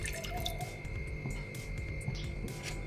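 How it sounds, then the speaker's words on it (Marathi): Water poured from a cup into a pot to start jaggery tea, a soft continuous trickle and patter at steady level, close by, with a faint background hum and no talking. "1 कप पाणी पातेल्यात ओतून घेऊया।"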